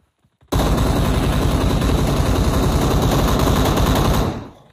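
Sustained, loud automatic gunfire from the video game PUBG Mobile, a dense unbroken burst lasting about four seconds before cutting off, with no talking.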